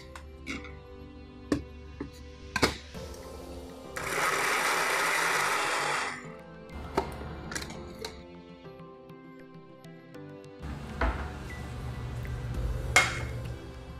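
A kitchen blender whirs for about two seconds as it crushes tomatoes, dried red chillies and two garlic cloves, a loud steady grinding burst framed by light clinks, clicks and soft background music tones.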